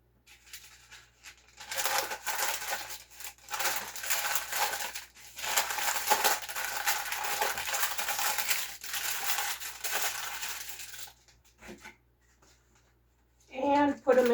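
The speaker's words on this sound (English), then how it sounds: "I'm going to wrap these in parchment paper." Egg and bacon sandwiches being wrapped in parchment paper, giving close, steady crinkling and rustling over about nine seconds, then quieter handling, with a brief voice at the end.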